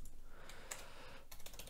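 Keystrokes on a computer keyboard while writing a Unity Editor script: a few soft, scattered clicks, quiet and close, with no talking.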